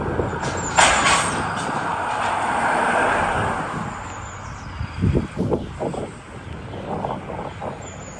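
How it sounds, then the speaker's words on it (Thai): A large pickup truck rolls past on a rural road, a broad rushing swell that peaks early and fades, followed by scattered rattles and bumps of nearby movement. "อันนี้มีรถปิกอัพด้วยจ้า คันใหญ่มาก"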